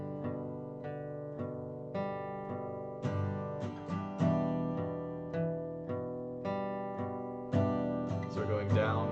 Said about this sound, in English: we're going to take the last pattern but modify the ending so that it has more strumming, less picking